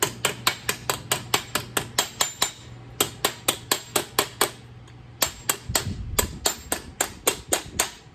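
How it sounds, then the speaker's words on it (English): A hammer taps a wrinkled sheet metal flange flat in a dimple die, sharp close metallic blows falling in a steady, quick rhythm, briefly pausing before resuming. "I'm going to put it back in the dimple die and just go around and flatten that out."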